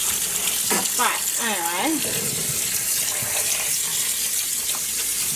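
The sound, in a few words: water running from tap while rinsing out a tub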